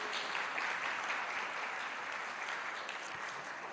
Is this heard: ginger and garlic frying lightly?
no